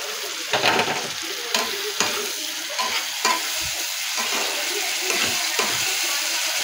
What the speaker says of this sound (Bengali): দিয়ে এটাকে ভালো করে এবার ভাজবো মশলাটাকে।